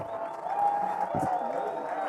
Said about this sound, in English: Crowd trying to get riled up here.